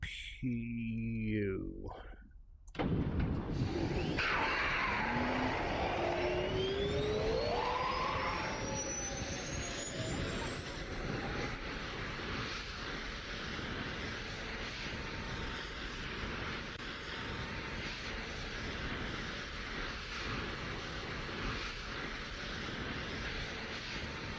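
An F-22A Raptor's auxiliary power unit spools up in the DCS flight simulator: a steady jet-like roar with rising whining tones that climb over several seconds, then settle into a constant loud hum.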